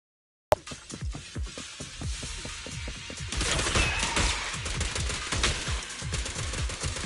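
Rapid gunfire from a shooter-style fight in the game Zenless Zone Zero, with dense repeated shots and impacts that grow louder and busier midway, alone without talk.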